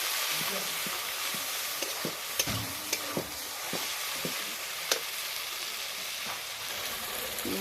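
Ginger-garlic paste and spices fry in mustard oil while being stirred, a soft continuous sizzle broken by sharp scraping clicks of a spatula against the pan at irregular intervals, no voices.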